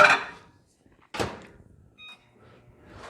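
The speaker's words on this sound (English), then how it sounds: "I'm going to pop this in the microwave for about 30 seconds just to heat it up" A kitchen microwave oven being shut and started to warm a keto no-bake cookie mixture: a sharp door thump and clatter, then a short electronic beep, with quiet handling noises around it.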